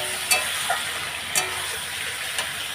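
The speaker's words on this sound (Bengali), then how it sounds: "এখন আমি ভালো করে নাড়াচাড়া দেবো" Chilli paneer with tomato sauce being stirred in a hot pan, a steady sizzle underneath a few soft scraping strokes of a spoon, close and moderately loud, with no talking.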